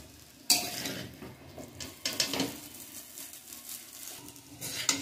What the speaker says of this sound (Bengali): চিকেন দিয়ে দেবো চিকেনটা দিয়ে সবকিছু এবার ভালো করে মিশিয়ে নেবো